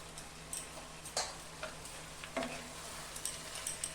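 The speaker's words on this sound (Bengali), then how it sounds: "সব ভালো করে ভেজে নেব।" Ground turmeric, cumin, coriander and chilli powders frying for mutton masala, a faint steady sizzle broken by occasional light clicks and scrapes of a spoon against the pan.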